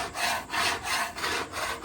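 A metal scraper rasps across a stainless steel pan in about four close, loud back-and-forth strokes, each a gritty broadband scrape with no voices.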